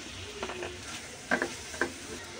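Chopped tomatoes land on frying ground spices in a pan, giving a soft, fairly faint sizzle with two or three brief stirring scrapes and clinks.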